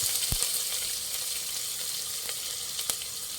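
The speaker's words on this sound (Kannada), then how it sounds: "ಒಂದು ಸ್ವಲ್ಪ ಇದು ಬೆಳ್ಳುಳ್ಳಿ ಒಂದು ಸ್ವಲ್ಪ ಬ್ರೌನ್ ಕಲರ್ ಬರಲಿ" Garlic fries in hot oil with mustard seeds and cumin as it browns for bele rasam, giving a steady crackling sizzle throughout with a few brief louder pops.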